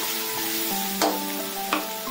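Cauliflower stirred together with pepper masala in a hot pan, a steady sizzle under two sharp scrapes of the spoon against the metal, close and fairly quiet.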